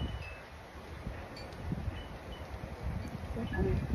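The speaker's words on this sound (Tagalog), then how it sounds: "Masarap ng breeze ng hangin." Breeze rustles and buffets the microphone with low, uneven gusts, a few faint bird chirps barely audible in the background.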